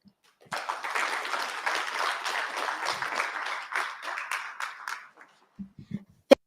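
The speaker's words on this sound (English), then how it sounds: "Can we just give her another round of applause?" A closing event audience gives a steady round of applause for a speaker, Margaret Kahiga, lasting several seconds before thinning out, with a few faint sounds after it.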